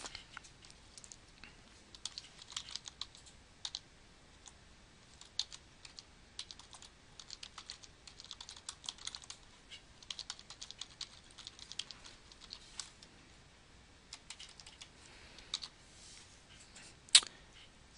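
Quiet clicking of a computer keyboard as a title is typed in, soft irregular taps scattered throughout with one sharper click near the end, faint and close.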